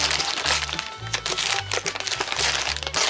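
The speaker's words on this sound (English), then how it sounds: "Just a nice little envelope for packaging." Packaging envelope being torn open by hand, close and loud, a rapid series of crackling rips and crinkles with short pauses, while a faint hum sits underneath.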